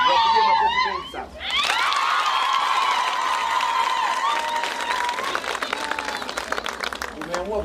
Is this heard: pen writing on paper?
no